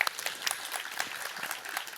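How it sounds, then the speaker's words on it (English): An audience at a DigitalK 2019 conference breaks into applause for a speaker, a dense, steady patter of many hands clapping from a roomful of people, moderately distant and without pause. "I want you to give her a big round of applause, Maja Vujinovic."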